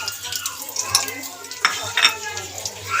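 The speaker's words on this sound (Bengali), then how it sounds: "তেল গরম হয়ে গেছে এবার আমি ফোড়ন দিয়ে দেবো প্লেটে গোটা গোলমরিচ তেজপাতা তার সাথে লং এলাচ দারচিনি" Whole black peppercorns, bay leaves, cloves, cardamom and cinnamon sizzle in hot oil for handi chicken, a close crackling fry with scraping stirs and utensil clinks throughout.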